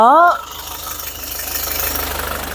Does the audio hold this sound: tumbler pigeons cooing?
no